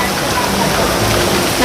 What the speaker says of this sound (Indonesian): Nah, hujan deras ya pada mampir.